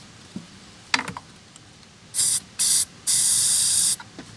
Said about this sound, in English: I have brake cleaner, so let's try giving everything a bit of a blast in there